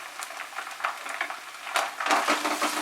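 Chopped onion fries in oil with ginger and garlic paste for a Bengali katla fish curry, a dense close sizzle broken by irregular scraping stir strokes that grow busier toward the end.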